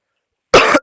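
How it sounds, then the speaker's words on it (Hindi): A single sharp, loud cough from a teacher during a Hindi grammar lesson, short and isolated after silence. "खांसी आ रही है।"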